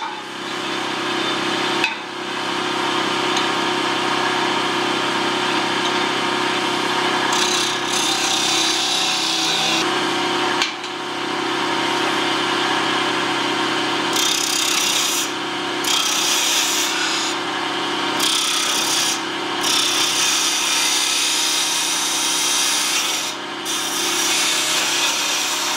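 A wooden spinning top is shaped on a lathe with a chisel, the spinning workpiece giving a steady close rubbing, scraping hiss broken by several brief pauses and cuts as the tool lifts off and bites again, with no talking.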